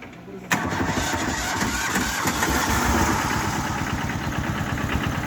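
A vehicle engine cranks and catches about half a second in, then runs at a rough, steady, loud idle close by as the driver prepares to leave a cattle farm with a sold cow.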